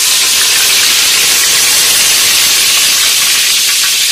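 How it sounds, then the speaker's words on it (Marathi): Bay leaves dropped into hot oil in a pan for a dhaba-style Kolhapuri mixed vegetable curry give a loud, steady, hissing sizzle that holds evenly with no pauses and no voices. "आपण इथे आपलं तेल गरम झालेलं आहे, आपण आता त्याच्यामध्ये हे टाकणार आहोत"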